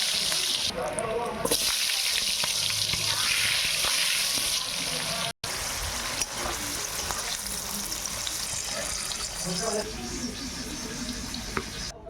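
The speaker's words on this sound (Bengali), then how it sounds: "পেঁপেগুলো ভেজে নেবে" Papaya pieces frying in oil in a kadai for a chicken and potato curry, a continuous close sizzle with occasional stirring scrapes and a brief gap midway.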